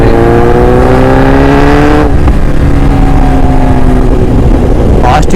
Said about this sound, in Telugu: సౌండ్ అయితే నెక్స్ట్ లెవెల్ గైస్. దీనికి Austin racing full system exhaust ఉంది.